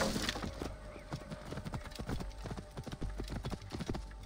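Donkeys walk with a steady clip-clop of hooves in the Assassin's Creed Origins video game. The hoofbeats are close and rhythmic, with a whinny-like call early on and little speech.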